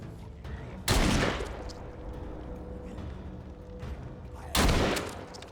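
Shotgun blasts from The Walking Dead Saints & Sinners video game: two loud, booming shots a few seconds apart, each trailing off over a rumbling game backdrop.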